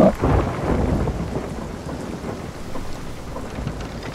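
A thunderstorm rages at sea in Sea of Thieves, with a loud thunder rumble at the start fading into constant rain drumming on surfaces and low rumbling underneath.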